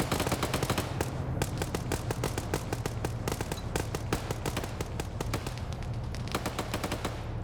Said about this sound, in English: We got some more blind suppressive fire coming out